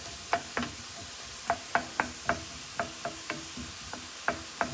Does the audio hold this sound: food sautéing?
yes